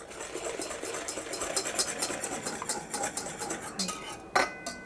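Continuous scraping and clinking of a utensil stirring milk into a mixture in a bowl for custard sauce, busy and close, with a brief sharper knock near the end.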